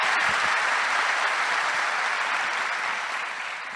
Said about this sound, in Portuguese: mas que eles fossem aplaudidos